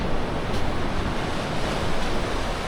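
Sea waves at a beach in Northern Samar, Philippines, near a tall rock formation, a steady loud wash of surf with wind noise buffeting the microphone.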